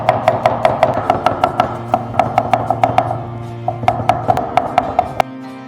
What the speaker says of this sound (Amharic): ነጭ ሽንኩርታችንን እዚሁ አከታተፉን እዚሁ እንጨርሳለን።